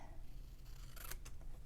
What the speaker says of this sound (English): So I'm just going to snip up the center and then meet from edge